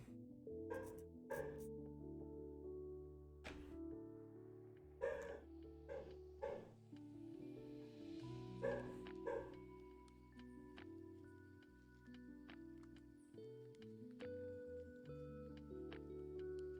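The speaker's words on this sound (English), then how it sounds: "apologies about Fiona barking in the background" A dog barks in short bursts and clusters in the background, fairly faint and distant, separated by quieter stretches.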